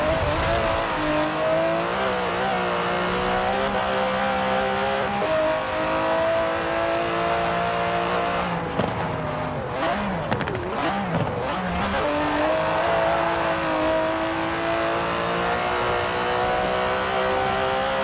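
An Aston Martin DB11 with a 5.2-litre twin-turbo V12 revs loudly and continuously in the Forza Horizon racing game, its pitch rising and falling, with brief tyre squeal midway.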